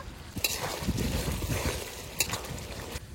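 Ginger and dried chili paste with about two spoons of cumin fries in a pan, giving a steady close sizzle broken by a few sharp clinks of a stirring spoon.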